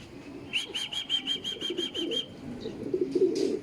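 A racing pigeon flaps in to land at the loft after a training toss, giving a rapid run of about a dozen wingbeats, close and distinct, then settling into faint rustling and low background noise.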